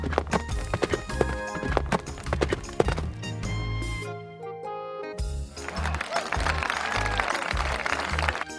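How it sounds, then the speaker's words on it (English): Rhythmic hoofbeats of a galloping horse pound over layered music, with a brief quieter break midway before the clip-clop resumes. "The horse runs and jumps in the field."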